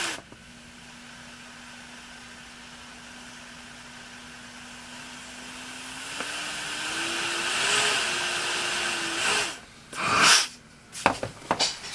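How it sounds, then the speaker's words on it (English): A noisy CPAP machine blows air with a steady, thin whine that holds level, then wavers and rises slightly before a few louder bursts of rushing air close out the passage. "Still a little bit of a whine. Yeah, maybe the motor shot."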